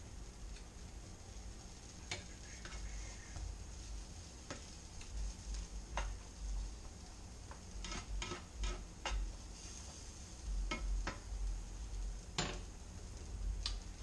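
Mushrooms and vegetables frying in a pan, a quiet steady sizzle broken by scattered light ticks and scraping taps of a utensil, close but faint.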